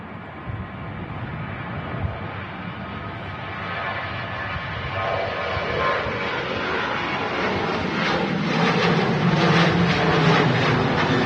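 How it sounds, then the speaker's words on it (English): Ryanair airliner taking off from Manchester Airport and climbing steeply, a broad jet engine roar that builds steadily and grows louder and fuller over about eleven seconds, heard alone without talk. "Ryanair to Dublin. Climbing really steep."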